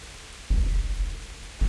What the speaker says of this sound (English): Well, the rain's going to be very loud.